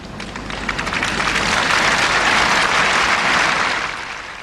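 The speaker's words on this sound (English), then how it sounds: "earned the sympathetic applause of the crowd" A tennis crowd breaks into sympathetic applause, a dense wash of clapping from many hands that swells, holds steady and then starts to fade.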